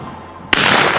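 A single sharp shotgun blast fired during a golf limbo trick shot, sudden and loud after a quiet moment, followed by a brief ringing tail.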